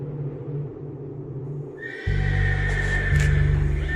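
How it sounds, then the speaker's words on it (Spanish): A horse neighs as a sound effect: a loud, shaky whinny rises over a low rumble that gives way to rhythmic hoof-like thuds, heard close and alone. "De madrugada se escuchó un relinchido"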